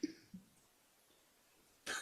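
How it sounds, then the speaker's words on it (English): A single short cough in a podcast studio, fairly close and moderately loud, coming after a couple of faint small vocal sounds and a quiet pause. "It was a cough, obviously."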